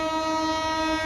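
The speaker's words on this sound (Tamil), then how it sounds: "ஸோ இப்போ வர ட்ரெயின் பார்த்தீங்கன்னா ஜன்சதாப்தி எக்ஸ்பிரஸ்" The Jan Shatabdi Express passes on the Tiruchy to Erode line, heard as a loud, steady train horn with a sustained multi-tone blare over rumbling rail noise.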